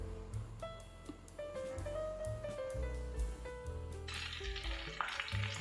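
Green chillies, dried chillies and Kashmiri chilli powder fry in hot oil for a sweet mango pickle, with a steady close sizzle and occasional stirring scrapes throughout.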